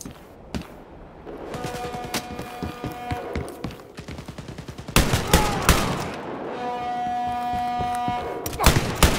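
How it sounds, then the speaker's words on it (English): Gunfire in the Wolfenstein video game, rapid bursts of sharp shots in stretches of automatic fire, loud and close, with brief pauses between volleys and a faint voice at moments. "Oh no, he shot me."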